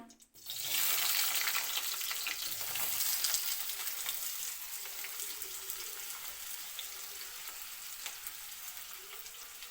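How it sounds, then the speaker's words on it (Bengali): Thinly sliced potatoes dropped into hot oil in a heated kadai, a sudden loud burst of sizzling that settles into a steady, close hissing fry with no voices. "তেলটা ভালো করে গরম হতো তারপর পাতলা করে আলু কাটাটা দিয়ে দিলাম"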